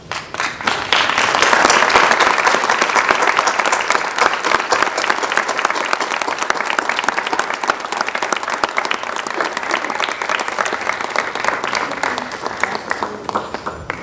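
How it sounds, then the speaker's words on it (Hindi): A large seated audience at a drama discussion event rises in a standing ovation, sustained dense applause that swells early and continues evenly, loud and close, for many seconds before thinning slightly at the end. "हम सब खड़े होकर ताली बजाकर काशीकर जी को श्रद्धा सुमन अर्पित करें"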